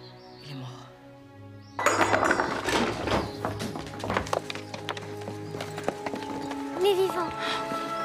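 Hooves clop unevenly on a hard surface over a low musical drone, a horse moving nearby with rhythmic knocking and occasional creaks.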